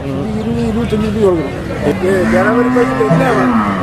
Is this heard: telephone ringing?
no